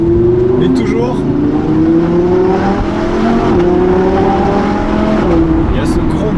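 Audi R8 V10 Plus with its 5-litre naturally aspirated V10 rumbles loudly and continuously, engine pitch rising and dipping as it drives, with someone talking over the sound.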